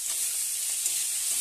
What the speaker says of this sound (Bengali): এগুলো ভাজা হচ্ছে।